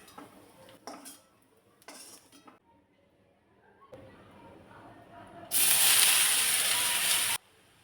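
Fenugreek greens being stir-fried in a wok over low heat: clinking spatula scrapes against the pan, then a sudden loud hiss of sizzling that holds for a couple of seconds before cutting off.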